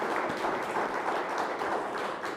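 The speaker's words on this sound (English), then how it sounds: "Let's give her a big round of applause." Sustained applause fills a room at a state bill signing ceremony, a dense steady wash of many hands clapping at moderate volume with no pauses.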